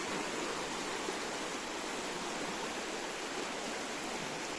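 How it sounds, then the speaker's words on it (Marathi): The Panval river in the Konkan countryside flows past in a steady, dense rush of water, an even continuous wash with no other sounds standing out. "तर ही आहे पानवल नदी।"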